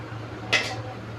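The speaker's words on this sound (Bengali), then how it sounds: "ঢাকা দিয়ে দিচ্ছি" A single quick metallic clink as a lid is set onto a pot of boiling potatoes, a brief bright tap over a low steady hum from the stove.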